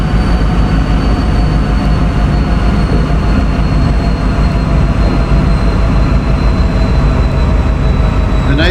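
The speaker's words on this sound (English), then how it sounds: "Yes, that's how fast this train is." A train rolls fast along a straight stretch in the Sonoran Desert, with a loud, steady rumble and rail roar throughout and no voices.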